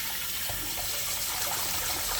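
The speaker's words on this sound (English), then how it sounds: "We're gonna catch water and we're gonna put the salt in the bowl." Tap water runs steadily into a bowl holding salt while callaloo is being prepared, giving a continuous, close, fairly loud rushing splash that lasts throughout with no talking.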